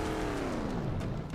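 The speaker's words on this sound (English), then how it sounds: "Has actual engine sounds too." A truck engine in a Halo: Combat Evolved mod revs steadily and loudly, a continuous low rumble with shifting pitch and no voices.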